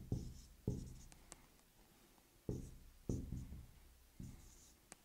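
Repeated scratchy strokes of equations being written on a board during a physics lecture on waves, arriving in short bursts with brief pauses, close and moderately loud, with no talking.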